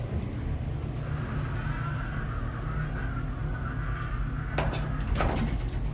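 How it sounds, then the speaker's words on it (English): A 1938 Haughton elevator's original door operator opens a sliding door in a Pittsburgh apartment building, giving a steady mechanical hum and rumble with a few sharp clacks near the end. "It appears you still have the original door operator."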